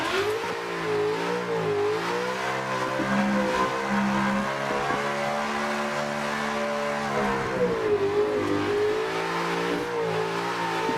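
A drift car engine in the racing game Assetto Corsa 2 revs continuously, its pitch rising and falling as the throttle is worked, loud and steady throughout with no talk.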